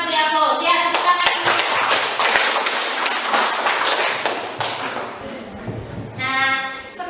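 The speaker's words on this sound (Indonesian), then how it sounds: "jadi kita beri aplaus ya. Tepuk tangan." Students in a classroom clap their hands together in a lively burst of applause that runs for several seconds and tapers off, with voices talking at the start and end.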